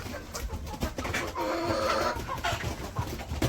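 A hen clucks in a village yard as she lays an egg, with a steady run of close, fairly loud clucks and cackles over about three and a half seconds.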